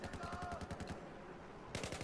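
Automatic gunfire in the Battlefield video game on the Dragon Valley map, a rapid rattling burst of shots close up, then a brief lull before another burst starts.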